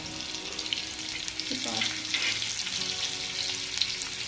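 Oil sizzles and crackles steadily as surmai (kingfish) fries in an iron pan, a soft continuous frying hiss close by, with faint scraping partway through.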